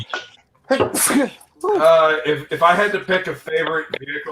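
A single loud, sharp sneeze bursts out close by at the start of a live group chat, followed immediately by a person talking.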